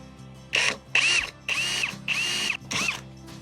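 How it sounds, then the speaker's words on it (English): Five loud bursts of a power drill whirring into the metal of an MGB car, each lasting about half a second to a second, separated by brief pauses, close by. "Right, so let's drill into this."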